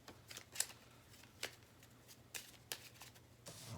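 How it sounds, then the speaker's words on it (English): A deck of game cards, encounter cards for a tabletop game, is shuffled quietly with several soft riffling bursts and faint flicks close by. "shuffle the encounter discard pile into the encounter deck"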